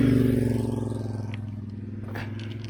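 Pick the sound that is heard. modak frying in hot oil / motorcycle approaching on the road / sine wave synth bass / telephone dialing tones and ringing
motorcycle approaching on the road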